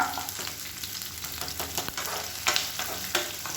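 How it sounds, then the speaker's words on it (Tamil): Onions sizzle and fry in a pan with occasional scraping stirs, a soft steady crackle with a few louder spatula strokes, moderately quiet and free of talk. "இப்போ வெங்காயம் லேசாக வதங்கிடுச்சு."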